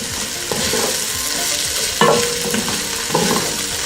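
Crushed cumin seeds sizzle in hot oil with onions for pilau, a steady close frying hiss broken by a few louder scraping stirs of the spoon against the pan.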